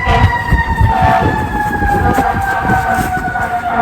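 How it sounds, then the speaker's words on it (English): A fire engine siren wails loudly and steadily in a repeating tone as the truck passes close by, with faint traffic rumble underneath. "That's a fire engine."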